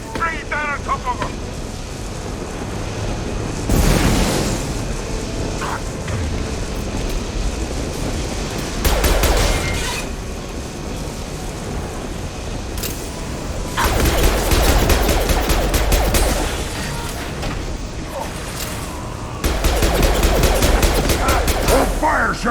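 Repeated gunfire bursts in Mass Effect 2 as shots try to bring down a loose fuel tank, loud volleys around 4, 9, 14 to 17 and 20 seconds over a steady game rumble and background noise.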